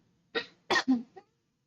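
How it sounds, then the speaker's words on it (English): A short series of three or four dry coughs, close and clear, in an otherwise quiet room. "Sorry, I have to cough again."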